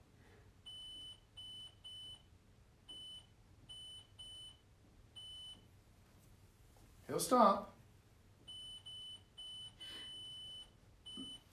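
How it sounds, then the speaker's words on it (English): An electronic ghost-hunting device sounds short, evenly repeated high beeps in bursts during a haunted house investigation, with quiet talk between and a louder voice briefly breaking in midway. "I've never seen it beep this in this fashion before."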